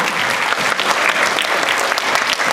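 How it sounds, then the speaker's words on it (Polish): A crowd applauds steadily, dense clapping filling the whole moment at close range with no voices over it. "Wielkie brawa!"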